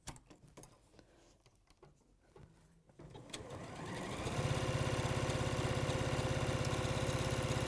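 A sewing machine runs a straight top stitch, starting after some quiet handling clicks and then settling into a loud, steady, fast mechanical whirr with a regular rapid needle rhythm that holds to the end.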